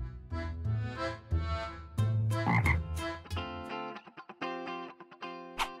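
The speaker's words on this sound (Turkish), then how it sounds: "Aa, bir kurbağa." A cartoon frog lets out a quick series of close, buzzy, exaggerated croaks, some stretched and some clipped, with short gaps between them and no talking.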